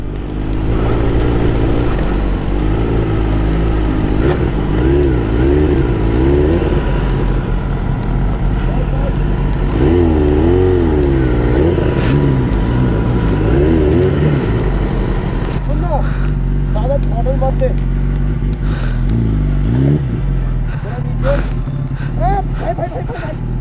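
A car's engine strains and revs repeatedly, loud and close, as it struggles up a slippery mountain road in Ladakh, with people talking over the steady roar.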